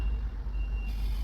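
A truck reversing, its backup beeper holding a steady high tone over a low, continuous engine rumble, fairly close and with no talking.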